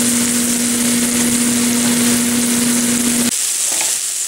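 Onion sautéing at medium heat in a pan for bitter-melon sabji, a steady loud sizzle with a constant stovetop hum that cuts out near the end, leaving quieter frying.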